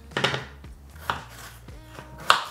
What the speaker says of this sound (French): J'épluche ma petite patate et je la coupe en petits morceaux.